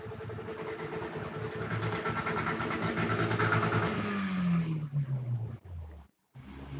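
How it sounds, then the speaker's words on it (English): A car engine runs and revs unevenly, its pitch sliding down as it sputters, close and steady before cutting off briefly near the end. "Do you hear that car stuttering?"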